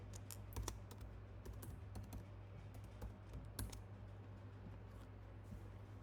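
A password is typed on a laptop keyboard during a software install, a steady patter of light key clicks in small clusters, close but quiet over a low electrical hum.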